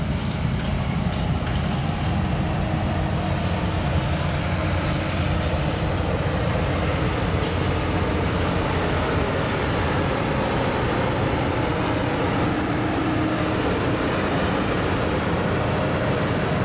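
A train hauled by a locomotive rolls past on the tracks, a loud sustained rumble with wheel clatter and a few sharp rail clicks, steady throughout.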